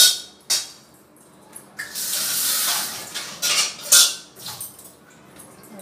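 Cooked sour taro dish (kochur tok) poured from a pan into a bowl in a home kitchen: a close, wet, sloshing pour in a few spurts, with clinks of metal utensils and cookware around it.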